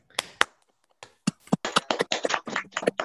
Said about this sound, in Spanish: les pido a todos abrir los micrófonos para aplaudir a Sebastián